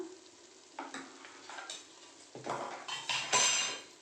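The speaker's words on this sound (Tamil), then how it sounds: "இப்போ பாருங்கள் மசாலா வதங்கினே இருக்குது" Sizzling and scraping in a pan as mutton masala spices are stirred and sautéed for chicken salna, with clinks of a spoon against metal, growing louder toward the end.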